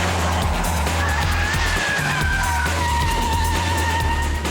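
Vauxhall Corsa with a 1.6-litre turbo engine lapping a test track, its engine note loud and steady throughout, rising in pitch through the gears with a brief tyre squeal in the middle.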